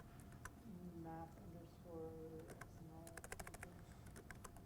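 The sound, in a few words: typing on a computer keyboard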